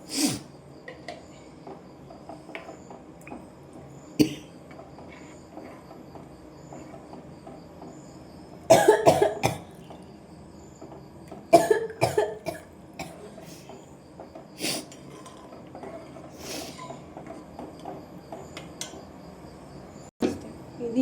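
A person coughs several times in a kitchen while tamarind water is prepared, the coughs coming as sharp bursts at scattered moments, with steady insect-like chirping in the background.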